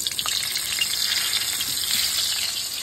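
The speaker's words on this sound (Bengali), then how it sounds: "এখন এক একটা করে আলু দিয়ে ভেজে নেবো সুন্দর লাল লাল লাল লাল করে।" Potato pieces frying in hot salted oil in a pan for fried rice, giving a loud, continuous close-up sizzle and crackle with faint stirring and no talk.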